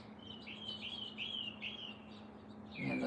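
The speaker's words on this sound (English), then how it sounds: "Man, those birds though." Small birds chirp outdoors in a rapid, repeating series of bright tweets, moderately close, over a steady low hum and background hiss.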